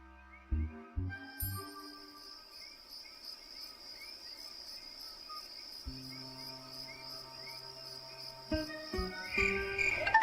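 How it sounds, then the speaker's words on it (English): Crickets chirp at night in a steady, rapid pulsing chorus that runs throughout, with a few low tonal sounds and a faint rising hum toward the end. "They always chirp at night"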